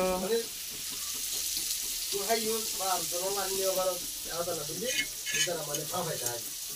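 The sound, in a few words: radish frying in hot oil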